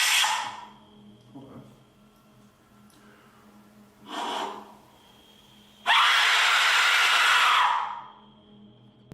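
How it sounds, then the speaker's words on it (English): A piercing, harsh shriek from an Aztec death whistle bursts out loudly and holds for about two seconds, following a couple of shorter breathy whooshes in a quiet space. "now it's time for a scream with an Aztec whistle"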